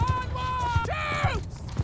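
Hooves clip-clop at a steady walking rhythm in Mount & Blade II Bannerlord, low thumps recurring about every half second beneath a voice that talks throughout.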